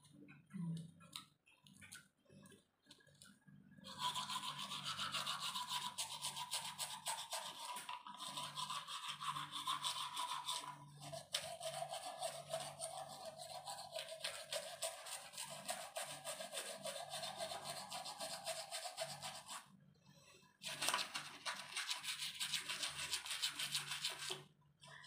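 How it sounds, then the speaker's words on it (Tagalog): Someone brushes their teeth with a toothbrush, making fast, steady scrubbing strokes close to the ear. The brushing stops briefly twice, then resumes. "Toothbrush."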